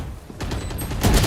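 Gun reload in the tactical shooter Valorant, a quick run of mechanical clicks and metallic clacks lasting about a second, close and fairly loud, ending in a sharper burst.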